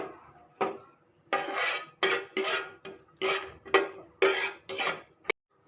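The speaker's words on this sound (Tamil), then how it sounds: "இப்போ முந்திரி பருப்பு போட்டு வறுத்து எடுத்துக்கலாம்." Cashew nuts are stirred through hot ghee in a pan, a spoon scraping and clinking against the metal in a string of distinct, rhythmic strokes separated by short pauses, close and clear.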